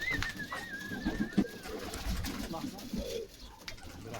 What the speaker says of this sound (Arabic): زي ما انتم شايفين الحمام بسم الله ما شاء الله